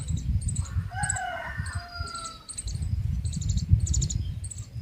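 A rooster crows in a backyard, several clear crowing calls repeated at a moderate distance over a steady low background rumble, with crickets or small birds chirping faintly.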